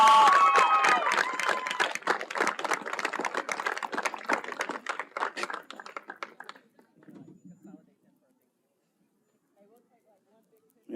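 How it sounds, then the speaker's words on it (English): Crowd applause at a Kilgore College softball game on a Sunday afternoon, honoring sophomores: dense clapping starts loud, thins to scattered claps and fades out by about seven seconds, leaving near silence. "please give a round of applause"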